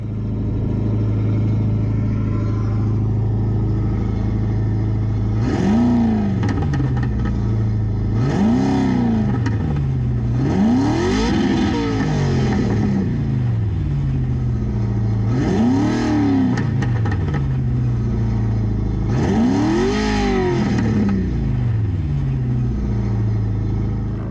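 A simulated V10 engine sound plays through the stereo of a Vauxhall Opel Astra, a low droning rumble with about five rising-and-falling rev swells, loud and continuous.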